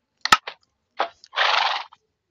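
A horse in Minecraft Pocket Edition gives short neighing snorts followed by a longer whinny, crisp and isolated against silence.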